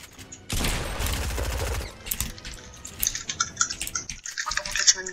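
A Fortnite exchange with pump shotgun blasts and rapid SMG fire: a dense loud burst early, then scattered sharper shots and clicks.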